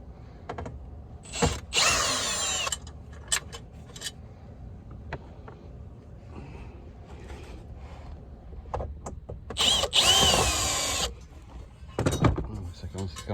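Cordless power drill backing screws out of the knee blocker plate under the dash of a 1999 Jeep Cherokee XJ, two loud whirring bursts several seconds apart with clicks, rattles and handling noises in between, close by.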